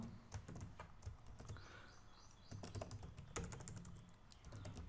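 Code being typed on a computer keyboard in a quiet room, with rapid clusters of close, crisp key clicks in uneven bursts and no talking.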